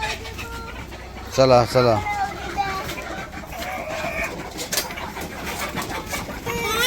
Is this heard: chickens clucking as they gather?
yes